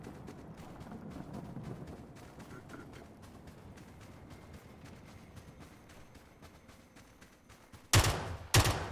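PUBG gunfire with bolt-action rifle shots on the Vikendi map, scattered sharp cracks under game ambience and someone talking, ending in two loud close bursts.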